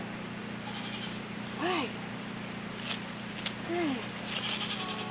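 Goats bleat twice outdoors, each cry a short wavering call at moderate distance, over a steady low hum, with a voice speaking briefly.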